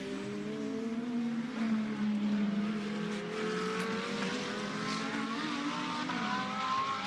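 GT2 race cars at Hockenheim sweep past on the circuit's drag-strip section. Rising and falling engine notes pass one after another at moderate distance, with no voices over them.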